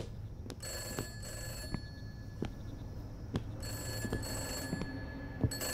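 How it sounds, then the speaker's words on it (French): An old telephone rings in the horror game Summer of 58, a repeated bell-like tone sounding over a constant low droning hum, with sharp clicks scattered through the scene. "Il est où le téléphone?"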